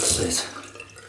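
Water splashes briefly onto Derby shaving soap being lathered with a brush, a short wet burst loudest at the start and fading quickly into soft trickling.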